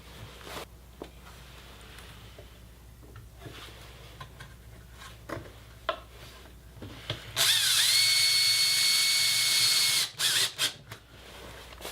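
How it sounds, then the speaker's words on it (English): A power drill drives self-tapping screws into Luan plywood. A loud, steady whirring burst runs for a few seconds and stops abruptly, after scattered handling clicks and knocks. "I take a small piece of Luan ply, align it, and I use these self-tapping screws."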